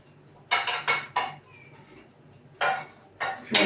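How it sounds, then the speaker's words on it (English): Glassy clinks and clatters as a sterilised jar is handled before being filled with strawberry jam, several sharp bursts of contact in two clusters separated by a quiet pause, close by with no speech. "so I'm going to put it into a sterilised jar"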